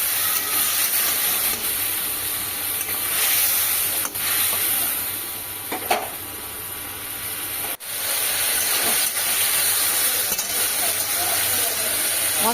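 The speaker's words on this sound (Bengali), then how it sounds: "সামান্য জল দিয়ে এবার এটাকে মশলাটাকে কষিয়ে নেব" Spice paste of cumin powder, coriander powder and turmeric frying in a pan with a little added water, giving a continuous close hissing sizzle with a few light clicks and scrapes.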